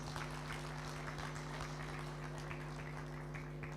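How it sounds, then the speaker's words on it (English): Audience applause for dancers from Burundi at a project launch ceremony, a soft, distant patter of many hands over a steady electrical hum, with no voices. "Let's give them a big round of applause."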